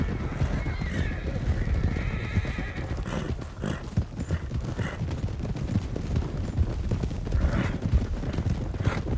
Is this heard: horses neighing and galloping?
yes